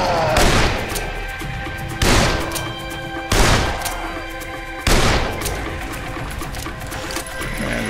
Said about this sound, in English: I guess I'll just shoot you